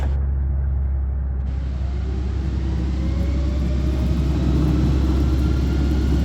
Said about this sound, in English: So right now it's just set up to test the motor to make sure everything works.